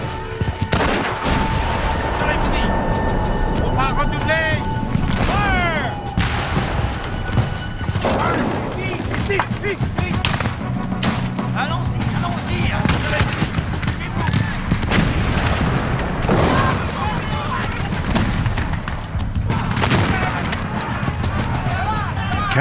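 A dramatized siege of Fort William-Henry, with sharp sniper gunshots and heavy French artillery booms scattered through dense battle noise, shouts and a narrating voice over it all.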